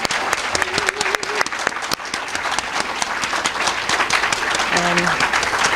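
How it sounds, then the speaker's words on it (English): A crowd applauds the speakers at an International Women's Day event in Dallas, loud dense clapping that swells and holds steady, with brief voices and a short tone mixed in. "Let's give them another round of applause"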